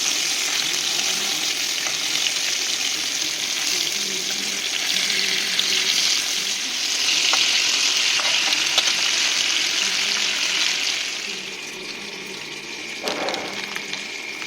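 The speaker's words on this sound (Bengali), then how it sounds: "আস্তে আস্তে করে ভাজবো এটাকে আমি, একটু ভালো করে একটু ভাজা হয়ে গেলে তারপরে উল্টে দেবো" Fish frying in a kadai hisses and sizzles steadily in hot oil, a loud, continuous crackle close by that eases a little toward the end, with no talking over it.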